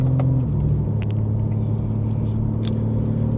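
A BMW G80 M3 engine rumbles steadily and deeply, its tone dropping slightly early on, then holding a low, throaty drone with faint clicks and rattles over it, close and without speech.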